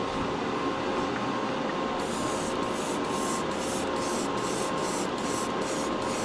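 A Gaahleri Mobius SP airbrush sprays primer with a steady, close hiss that runs throughout, joined partway by faint regular ticking pulses, with no voices.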